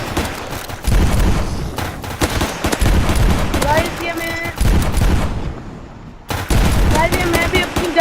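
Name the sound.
gunfire from shooting zombies in the video game Zombie Rush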